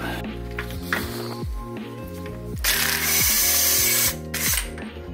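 A power tool rattles and whirs in bursts while undoing 14mm axle bolts on a Nissan 350z, with a ratcheting mechanical chatter and a buzzy motor pitch that repeats close by.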